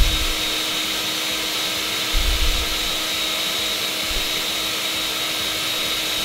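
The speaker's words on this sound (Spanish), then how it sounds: "Y lo único que vamos a hacer en este momento es licuar." Blender whirring as it purees mango chili sauce with Worcestershire sauce, a steady high motor whine with a whooshing buzz held for several seconds, fairly close and alone.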